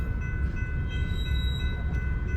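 Freight railroad cars rolling freely through a hump yard with air lines disconnected and no brakes applied, a steady low rumble with faint high ringing tones, continuous and fairly close.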